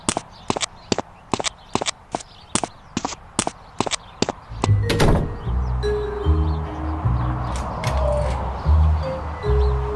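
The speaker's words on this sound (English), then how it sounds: "Time to close the car's engine door." Run of about a dozen sharp, evenly spaced knocks, then a dense rumbling clatter as a car's engine hood is brought down and closed, close and fairly loud with no talk.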